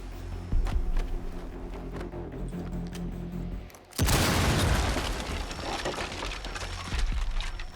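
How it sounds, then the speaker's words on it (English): A breach charge detonates on a trapdoor in Rainbow Six Siege, a sudden loud close blast that follows several seconds of ambient game noise and then gives way to a long rumbling debris wash. "By detonating a breach charge on the trapdoor, you can create a passageway to the floor below."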